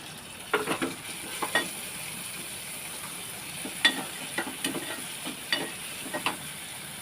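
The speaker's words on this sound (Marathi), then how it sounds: "कांदा तेलामध्ये परतून घेतलेला आहे आता त्यामध्ये टोमॅटो घालते" Tomatoes cooking with fried onion in oil for vegetable Maggi, a soft sizzle broken by several scraping and stirring clacks of a spoon against the pan, fairly quiet and close.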